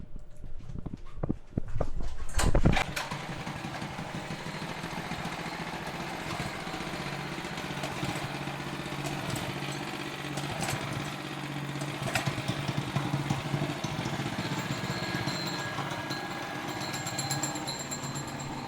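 Restored Pro-Kart and Bambino go-kart engines starting with a rough pull and then idling, a steady buzzing putter that runs loud and close throughout, sometimes rising and falling.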